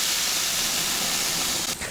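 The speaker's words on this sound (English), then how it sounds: "Throw this puppy on the grill. Sizzle." Plant-based burger patty sizzling on a grill, fat dripping into flames: a steady, close, loud hiss that holds without a break for the whole stretch.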